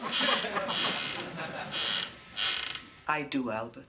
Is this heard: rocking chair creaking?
yes